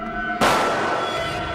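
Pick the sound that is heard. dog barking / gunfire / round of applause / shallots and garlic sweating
gunfire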